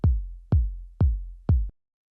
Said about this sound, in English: like a really warm, sort of like round kind of kick like this that doesn't have too much high end